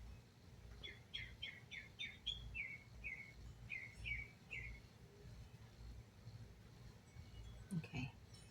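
Outdoors, a bird sings a quick series of bright, falling chirps for several seconds against a low background rumble, then goes quiet before a brief, louder burst near the end.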